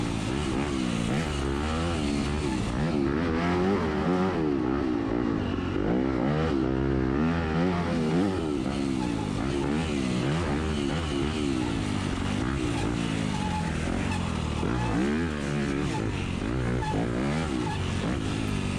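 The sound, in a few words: dirt bike taking off in a hill climb race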